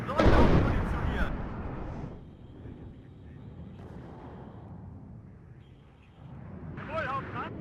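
Artillery barrages from the WARNO campaign battlefield: a loud, close booming burst opens, then lower rumbling fire rolls on beneath someone talking, with another sharper blast near the end.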